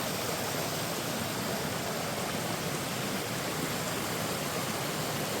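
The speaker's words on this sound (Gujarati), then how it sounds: "પાણીનો અવાજ બહુ આવતો છે નહીં તમને?" Water rushes steadily over a small forest waterfall in Gir, a dense, even hiss of flowing water with no breaks, moderately loud and continuous, with no voices.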